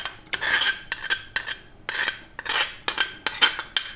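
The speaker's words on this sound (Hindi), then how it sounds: "अब मसलसल चमचा हिलाते जाएं।" A metal spoon stirs milk and khoya in a pot for kulfi, clinking against the sides in quick, irregular strokes, some louder and some softer, with no voices.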